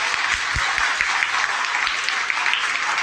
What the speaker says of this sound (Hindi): अभी ऐसे ताली बजाओ